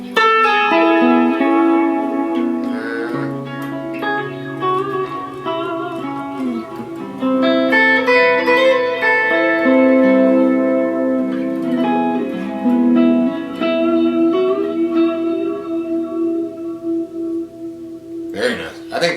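An electric guitar plays melodic lines through a Boss DD-200 delay pedal on its Vintera Echo setting, with repeating echoes and a washy modulated tail that sustains steadily and loudly throughout.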